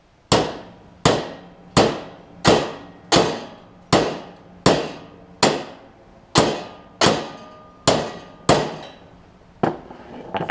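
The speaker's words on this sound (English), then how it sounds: "I'm going to try and hammer them out a little bit" Sharp metal-on-metal hammer strikes on riding mower blades, about a dozen evenly spaced blows, each ringing briefly before the next, with a short pause near the end.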